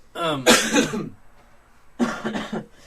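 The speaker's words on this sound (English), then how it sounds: "We're all coughing because we got that" Two bursts of harsh coughing from a person nearby, a cluster of coughs, a pause, then another short fit.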